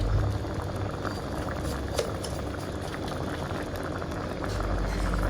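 Keto pork panang curry with coconut milk simmers in a pot, a dense, continuous bubbling and gentle boiling heard close up, with no talking.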